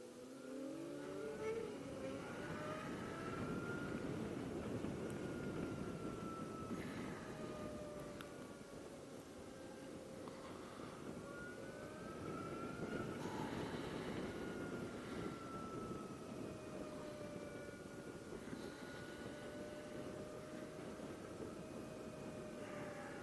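Zero SR/F electric motorcycle cruising at freeway speed, a steady broadband rush of wind and road noise with a faint rising and falling motor whine, continuous throughout, no voices.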